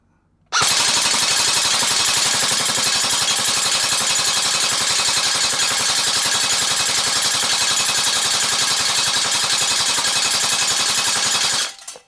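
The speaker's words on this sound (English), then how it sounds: "So let's put it in full auto, and let's do a mag dump." A G&G RK Beta AK airsoft electric rifle fires a full-auto magazine dump: a loud, continuous rapid buzzing rattle of shots that runs unbroken for about eleven seconds and then cuts off abruptly, with no talking.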